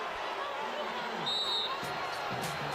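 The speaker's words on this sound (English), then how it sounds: "Crowd going crazy, especially the UConn bench for Natalie Butler taking the charge." Crowd at a women's college basketball game between UConn and Temple roars after a charge call, a steady loud cheering and babble filling the arena throughout, with scattered shouts and a few sharp squeaks on top.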